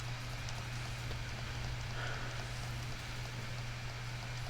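Hail weather effect in the Pokemon Sword video game, a continuous dense patter of pelting ice over a steady low hum, even and unbroken throughout with no talking.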